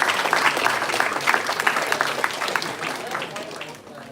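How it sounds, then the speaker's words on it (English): A crowd claps for a speaker at a discussion event, dense applause that holds steady and then slowly fades, with voices faintly underneath. "Give a great round of applause for him."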